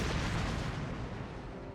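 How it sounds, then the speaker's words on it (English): A heavy explosion overhead in the video game Baldr Sky Dive rolls out as a dense, loud, sustained roar with deep rumble that slowly eases without fading out. "I hear an explosion from above"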